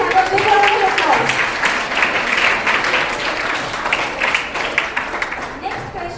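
A school audience at an inter-house science quiz competition gives a loud, full round of applause that carries on steadily, with voices mixed into the clapping.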